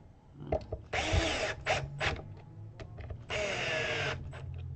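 Cordless drill running on an electric guitar: two sustained whirring bursts of about a second each, separated by several short trigger-blip spins, close and fairly loud.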